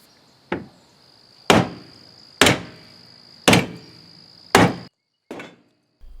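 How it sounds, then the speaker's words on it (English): Five loud metallic hammer blows strike the sheet-metal footwells of a diesel Volkswagen Jetta at an uneven pace, each ringing briefly, followed by a softer final tap, with a steady high insect whine behind. "I beat them with a hammer until it stopped making a difference"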